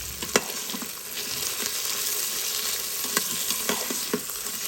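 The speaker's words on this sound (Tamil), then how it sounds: "இதையும் ஒரு நிமிஷம் வதக்கிக்கிறேன்." Potatoes sauté in a hot oiled pan for vegetable kurma, a steady crackling sizzle up close with occasional sharp pops and scraping stirs, with no talk.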